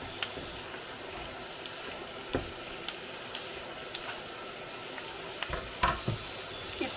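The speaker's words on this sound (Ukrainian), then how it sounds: "Цибуля підсмажилась і ми додаємо і гриби, і моркву одночасно." Onion, mushrooms and carrots fry in a pan for a traditional Cossack krupnyk dish, a steady close sizzle with occasional louder pops and stirring clicks, and no talking.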